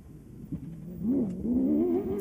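A rally car engine drones low inside the cabin at moderate pace, its pitch climbing and dipping as the car accelerates, fairly quiet and steady.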